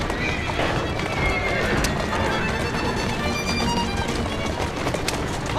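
Galloping horse in the Assassin's Creed Syndicate video game, with fast pounding hoofbeats and a loud neigh, all close and dense with clattering action noise throughout.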